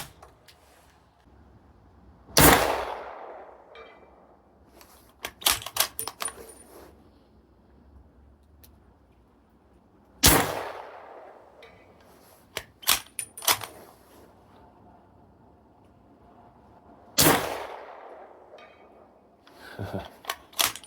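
Three sharp, loud gunshots from a .338 ARC bolt action pistol, each followed by a ringing clang of a big, thick steel plate swinging, spaced several seconds apart with smaller metallic rattles between.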